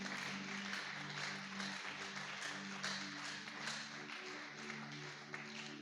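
A church congregation applauding and acclaiming during a worship service, sustained crowd clapping over a soft, steady musical tone underneath.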